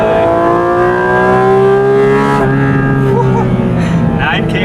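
A Porsche GT2 RS engine roars past at high speed, loud rising harmonic howl that climbs then drops as it flies by, with voices talking over it.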